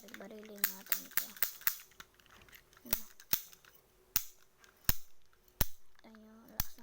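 A toy cap gun is fired at a handmade papier-mâché target, giving a rapid run of sharp, close snaps followed by more spaced single shots, with brief voices talking between them.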